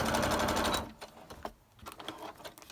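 A sewing machine stitches lace down onto a junk journal page in a loud, steady burst that stops abruptly, followed by quieter clicks and handling sounds.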